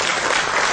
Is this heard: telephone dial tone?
no